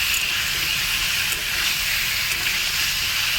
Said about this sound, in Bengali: চিকেনটা দেখো গোলমরিচ আর নুনের সাথে ভালো করে ভাজা হয়ে গেছে।